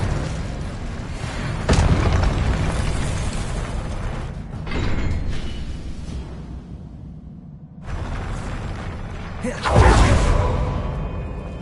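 Expelliarmus spell effects in the Hogwarts Legacy video game come as repeated whooshing, booming magical bursts. Several loud surges of energy rise and fade in turn over a continuous rumbling bed.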